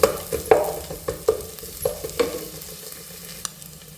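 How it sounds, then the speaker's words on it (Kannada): Food is stirred in hot oil in a pan and fries with a soft sizzle while Mangalore-style chicken curry is cooked. A utensil scrapes and clinks in irregular strokes close by. "ಫ್ರೈ ಮಾಡ್ಕೊಳ್ಳಿ ಚೆನ್ನಾಗಿ ಈ ಥರ ಎಣ್ಣೆಲೆ."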